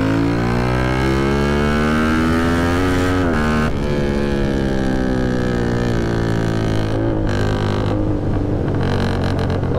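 Yamaha Y15 motorcycle cruising on a highway at steady locked throttle, a loud continuous engine drone with a slight pitch shift midway and wind rush, heard close from the rider's position.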